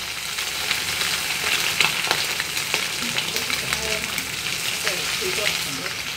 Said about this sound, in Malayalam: വേഗം വേഗം നമുക്ക് എടുത്ത് വറുത്തെടുക്കാം.